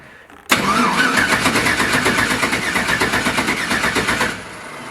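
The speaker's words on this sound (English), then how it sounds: "I'll probably crank it for a while too, just to make sure I get some oil" A Mazda RX-7 rotary engine cranks over in a loud, rapid, pulsing starter churn that begins abruptly, runs steadily for about four seconds, then cuts off into a quieter background.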